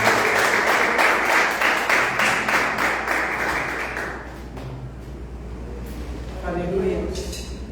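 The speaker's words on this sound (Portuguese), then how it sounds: "Aplauda o Senhor nesse momento." Church congregation applauding during a worship service, a dense clapping texture for about four seconds that thins out, with voices and some musical tones coming in near the end.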